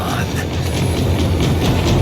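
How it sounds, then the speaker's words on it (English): A tram in the video game Max Payne 3 rumbles along steadily, a loud low roar with faint rhythmic clatter, while a voice talks over it. "The tram was slowing down,"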